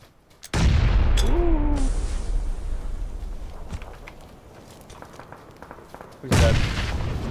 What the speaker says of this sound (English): That was my grenade, I threw it late